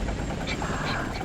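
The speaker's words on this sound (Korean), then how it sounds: "오전 11시 프로펠러 소리와 함께 대형각 호텔 상공에 헬기 한 대가 모습을 드러냈어" A helicopter hovers over a large hotel during a high-rise fire rescue, its rotor giving a loud, continuous thudding chop with a faint voice underneath.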